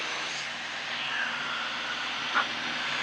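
A light aircraft engine drones as a steady, even roar inside the cabin during a powered descent at about 140 knots, with a brief faint chirp.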